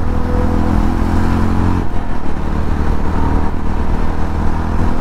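A Yezdi Roadster 350 motorcycle is ridden on the road and shifted through its gears, its engine droning loud and close with a brief dip at the gear change before pulling on, under rushing wind.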